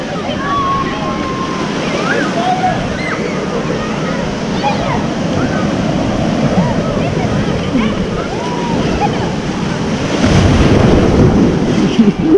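Surf rolls onto the beach at Sandbaai in a continuous loud wash, with gusty wind buffeting the microphone and a bigger wave surging near the end.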